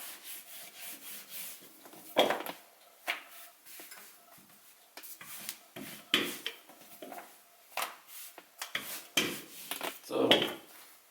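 Rubbing and clattering as a 28 cm crepe grill pan is handled during gözleme preparation with minced meat and mushrooms, with irregular bursts of scraping and knocks alternating with short quiet gaps.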